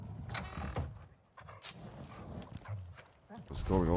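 Horses gallop in the survival video game Icarus, their clip-clopping hooves and creaks mixed with talk.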